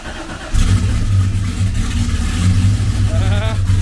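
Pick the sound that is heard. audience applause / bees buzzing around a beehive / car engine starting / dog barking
car engine starting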